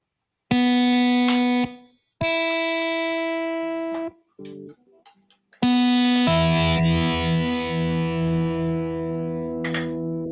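Distorted chords on an electric Kite Guitar ring out loud and sustained, two separate strums with a short gap, then a brief muted stretch before a longer, dense, buzzing chord.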